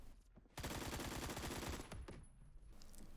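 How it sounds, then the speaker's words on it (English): An AK-47 rifle fires in the Roblox shooter Phantom Forces: one rapid full-auto burst of a few dozen shots lasting about two seconds, loud and close, then a faint tail. "Next is the AK-47, which is like an AKM with arguably more recoil and better damage"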